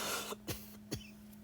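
Two short coughs, separated by about half a second, over a steady low hum in a quiet room.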